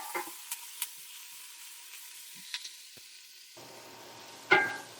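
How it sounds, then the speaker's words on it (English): Spices cooking in hot oil in a pot give a soft, low sizzle, broken by a few light clicks and one sharper clatter near the end. "we want to cook these spices in the hot oil"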